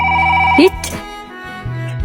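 A telephone rings with a short electronic tone for about half a second, followed by voices talking.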